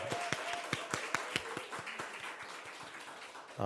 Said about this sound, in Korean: 우리 엄마들을 위해서 함께 박수 한번 할까요?